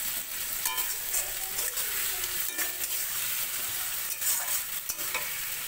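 Marinated mutton is about to go into a pan where ingredients fry in hot oil, giving a soft continuous sizzle. Occasional scrapes of stirring break through the sizzle, and there is no talk.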